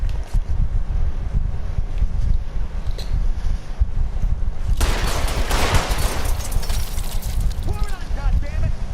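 Gunfire rings out in the video game L.A. Noire, first muffled under wind-like noise, then a loud burst of shots and bright cracks midway, followed by fainter noise and a voice-like sweep near the end.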